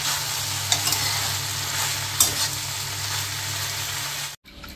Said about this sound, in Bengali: ঢ্যাঁড়সটা না হালকা হালকা জলের ছিটে দিতে হবে